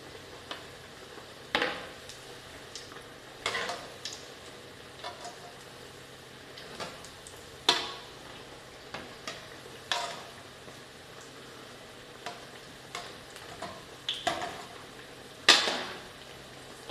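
Masala vada (paruppu vadai) made from soaked lentils frying in hot oil, a quiet low bubbling sizzle punctuated by several sharp irregular clatters and scrapes, close and faint overall.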